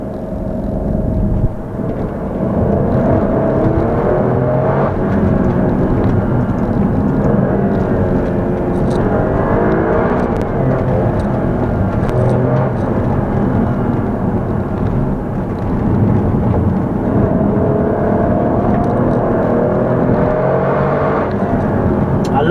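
An Alfa Romeo Stelvio Quadrifoglio SUV engine drones loudly and continuously from inside the cabin, a rough raspy note that rises and falls slightly as the car is driven.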